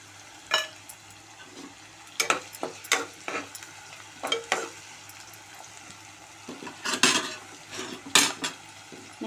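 Onions with a pinch of salt browning in a pan, a spoon or spatula scraping and clinking against the metal in irregular bursts over a low, steady sizzle, close and fairly quiet.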